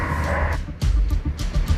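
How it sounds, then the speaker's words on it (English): Several dogs bark inside a building, short loud barks coming in quick bursts and overlapping one another, with a muffled rumble in the background. "Hear the dogs?"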